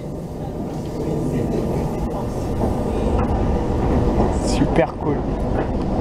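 A suburban commuter train set, unit 314, rumbles past at close range near Orsay and Massy, a loud sustained roar of wheels and motors with brief squeals, while a person speaks briefly over it.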